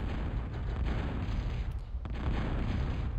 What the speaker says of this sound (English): And so now Venom is bombing with impunity.